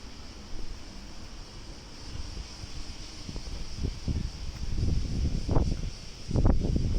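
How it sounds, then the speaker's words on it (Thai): Strong typhoon wind sweeps a residential spot in Japan, with a steady roar that builds in rough gusts toward the end. It is close to the microphone, with no talking. "ลมแรงมาก"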